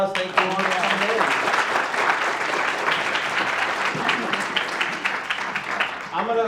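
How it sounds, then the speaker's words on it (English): A lecture audience applauds after a talk, dense overlapping clapping that fills the room at a steady level, with a voice breaking in near the end as it fades. "let's give her another round of applause"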